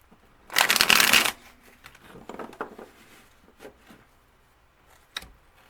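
A deck of oracle cards is riffled and shuffled close by, one loud burst of rapid flapping followed by softer shuffling taps and a final quick flick.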